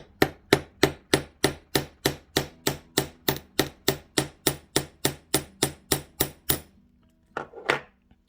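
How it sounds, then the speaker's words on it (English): A metal chasing hammer flattening wire strikes about twenty quick, evenly spaced blows with a bright ringing tone, then stops; two lighter taps follow after a pause. "We're going to hammer this out kind of flat with our chasing hammer"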